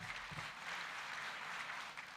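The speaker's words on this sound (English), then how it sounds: "Please, another round of applause for our governor." Applause for the Governor of Makueni at a governance gathering: a steady, faint wash of many hands clapping that holds evenly throughout without pause.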